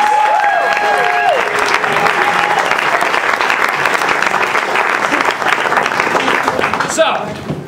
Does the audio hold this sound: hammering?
no